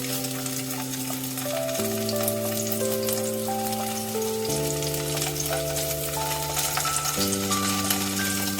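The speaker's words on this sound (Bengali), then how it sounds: "দেখো আলুটা কিন্তু আমার একদিকটা বেশ লাল লাল করে ভাজা হয়ে গেছে।" Potatoes sizzle steadily in hot mustard oil while a melodic instrumental tune plays throughout.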